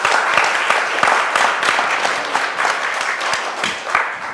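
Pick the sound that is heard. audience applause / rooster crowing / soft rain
audience applause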